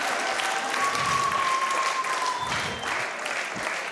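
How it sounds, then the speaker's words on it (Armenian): A studio audience on a comedy show applauds a contestant, steady dense clapping throughout, with a faint tone running underneath. "ծափարենք Արմենին"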